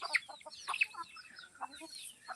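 Free-range country hens on a village poultry farm cluck in short, scattered bursts, several birds close by with brief pauses between calls.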